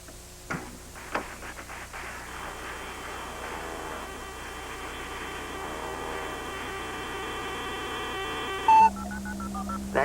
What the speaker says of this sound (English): those tones should have identified us as the Parker family